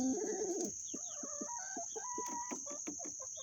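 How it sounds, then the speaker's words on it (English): A chicken clucks close by in a quick run of short, choppy calls after a brief louder squawk, with no voices over it. "Look at this chicken."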